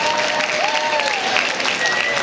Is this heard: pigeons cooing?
no